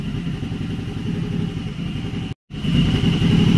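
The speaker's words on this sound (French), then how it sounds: "le moteur a atteint sa température on va dire normale. Le starter se désactive, il faut simplement contrôler que la vitesse de rotation du ralenti soit autour de 1300 tours minute" Suzuki DL650 V-twin motorcycle engine from 2014, warmed up and idling steadily near 1300 rpm, a close, even pulsing throb that drops out for a split second before resuming.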